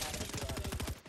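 Rapid automatic gunfire from the video game Fortnite rattles off in a fast, even burst of about a dozen shots, loud and close, then cuts out abruptly.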